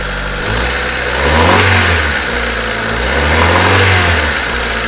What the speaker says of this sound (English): Just giving the engine a little bit of a run there